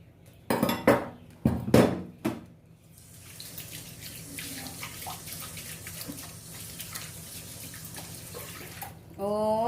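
Running tap water splashes steadily over hands at a kitchen sink during home cooking of fried rice, preceded by a few louder clattering knocks and followed by a brief sharper gush near the end.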